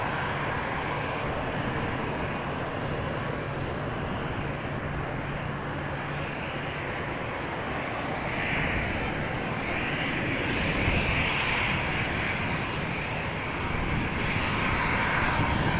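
An Airbus A320 jet airliner roars steadily through its takeoff run at Amsterdam Schiphol Airport, a loud broadband engine rumble that swells slightly toward the end, with no voices.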